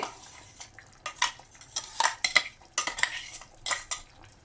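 A coarse paste of fresh grated coconut goes into a beetroot palya in a pan and is stirred with a metal spoon, giving repeated close clinks and scrapes in an irregular rhythm with no talking.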